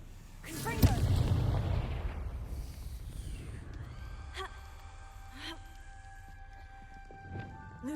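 A Confringo fire-blast spell in the Hogwarts Legacy video game: a sharp burst that swells into a loud rolling rumble, then fades over several seconds while faint ringing magical tones and soft chimes linger above the low roar.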